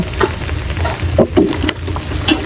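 Saba bananas simmering in a pot for ginataang saging, stirred with a few close, irregular wet clacks and scrapes over a low bubbling hiss; no one talks.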